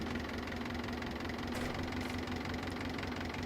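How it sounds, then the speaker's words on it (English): A Valpadana 4655 tractor engine idles steadily in a farming video game, a continuous low, even drone with a faint knocking pulse, heard alone at moderate volume. "You have your engine fan spinning there."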